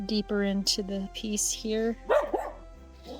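Pet dogs barking in the background of an indoor resin art session, several short repeated barks and yips heard clearly under a person talking.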